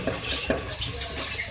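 Beef green keema with spices and coriander powder being stirred in a pan, a spoon scraping and clinking against the metal in soft continuous strokes for a brief moment with no talking.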